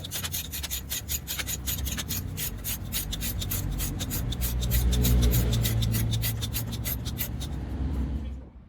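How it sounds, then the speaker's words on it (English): Rapid ratchet clicks sound up close as a car's alternator bolt is tightened, with a low mechanical rumble underneath before it stops abruptly. "tighten the alternator back up"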